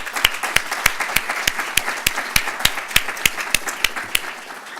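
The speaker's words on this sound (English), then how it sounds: "really deserve a special round of applause" An audience at a 2017 Three Minute Thesis competition applauds the Graduate School event organizers. The clapping is steady and evenly spaced, fairly sparse and moderately loud, and it continues throughout.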